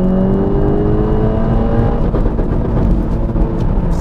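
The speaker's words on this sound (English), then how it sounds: "It sits on the rev limiter." A tuned 395 HP VW Golf R MK7 engine holds on the rev limiter, a loud, close, sustained high-rpm drone with slight pitch wavering and no talk.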